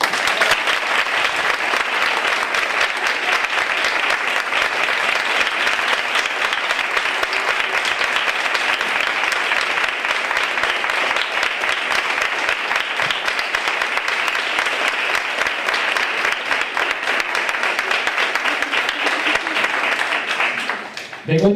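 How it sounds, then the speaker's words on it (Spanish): A book-launch audience gives a long, loud, steady round of clapping for novelist Begoña Curiel, dense and sustained for about twenty seconds before it cuts off abruptly. "para la que pido un fuerte aplauso"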